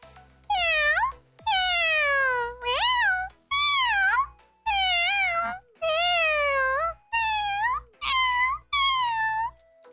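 A person imitates a cat with a run of about nine drawn-out, whiny meows in quick succession, close and clear, with short gaps between each call.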